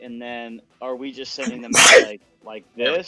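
A sneeze bursts out among several people talking around a tabletop role-playing game session, loud and abrupt midway through, with speech before and after it.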